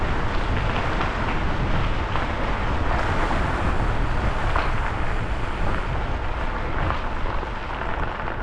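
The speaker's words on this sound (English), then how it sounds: "It's a windy tunnel." Strong, steady wind roars continuously through a tunnel on the Route of the Hiawatha bike trail in Idaho, a broad buffeting rush with no pauses, close and loud throughout.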